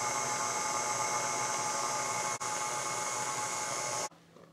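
Electric mixer steadily beating milk and sour cream into yellow cake batter, a loud continuous whir with a brief dip midway before it cuts off near the end.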